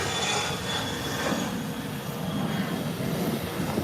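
A Cessna Citation jet roars on takeoff, a steady broad rumble carried at a distance with no pauses.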